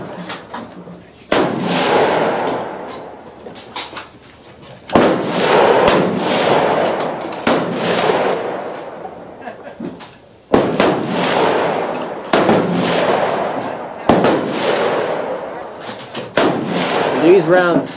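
Loud, close rifle shots from a Type 38 Japanese carbine firing 6.5 Japanese rounds at a shooting range, about seven sharp reports at irregular intervals of a few seconds, each followed by a long ringing decay, with talk between them.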